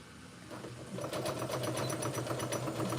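A Singer sewing machine stitching a corset belt, running in a steady, rapid rhythmic whir close by after a brief quieter start, with no talking.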